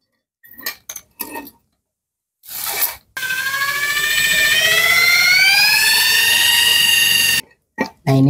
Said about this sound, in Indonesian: Oke, kita bor ya.